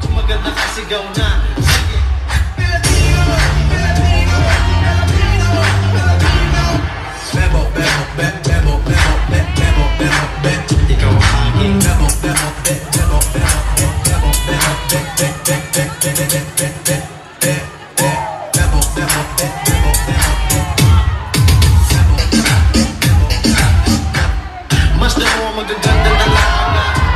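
A large crowd at a business convention shouts and cheers loudly and continuously, with whoops and bangs over an amplified voice and music, dense and sustained throughout.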